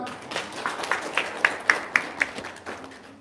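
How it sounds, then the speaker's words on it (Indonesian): A small audience claps after a testimonial talk at a local-wisdom gathering, with a short run of sharp, evenly spaced claps that rise and then fade. The clapping is fairly close and moderately loud, with no clear voices. "Tepuk tangan dong."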